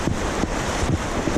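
Rushing river water in The Narrows at Zion, a dense, loud, continuous wash of flowing current close by, with gusty rumbling that suggests wind buffeting the microphone.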